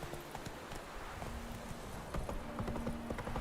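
Roach the horse gallops in The Witcher 3, a continuous run of quick hoof clip-clops under faint game ambience and music, steady and moderately close.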